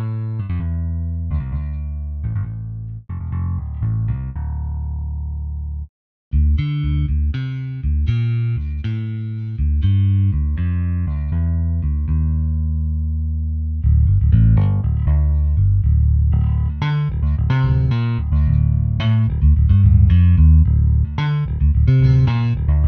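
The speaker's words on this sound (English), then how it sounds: "show you the sounds of the Ashdown and Ampeg amplifiers" Sampled bass guitar from the EastWest Ministry of Rock library through Ashdown and Ampeg amplifier tones, deep plucked lines and riffs with a brief gap early on, played alone and clearly.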